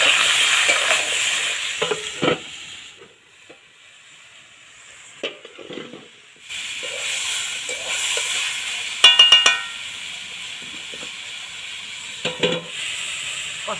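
Potatoes stir-fried in a pan with cumin and black pepper powder, giving a soft sizzle with scraping stirs, a quiet gap midway, then a brief cluster of sharp spatula clinks against the pan.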